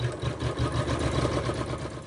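An embroidery machine stitches an FCM applique design, a steady mechanical whir with a fast, even stitching pulse, close and continuous with no talking.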